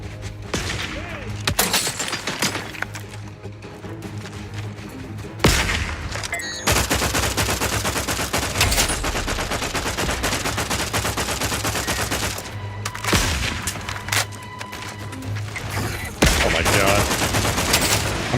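Plasma weapon fire from a Protectorate Trooper in The Outer Worlds 2, a loud continuous barrage of rapid shots with occasional pauses and heavier impacts, over game sounds.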